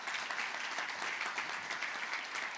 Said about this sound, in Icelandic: gefið þeim öllum gott klapp